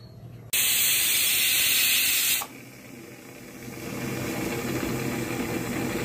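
A pressure cooker of rice on a stove blows its whistle, a loud sustained hiss of escaping steam lasting about two seconds, then drops abruptly to a softer continuous burner-like rush.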